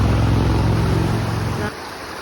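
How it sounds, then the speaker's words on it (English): A car passes on East Branch Road near a hiking trail by Rattling Creek, a steady broad rumble of tyres and engine that cuts off fairly abruptly and leaves quiet outdoor ambience, with no talking. "You'll see a car come by on it here in a minute."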